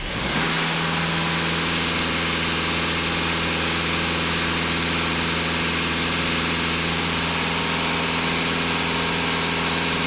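Engine of a VW Passat, Seat Leon or Skoda Octavia with heavy soot buildup and a NOx sensor fault, idling steadily at close range with a constant low hum, with no talk over it.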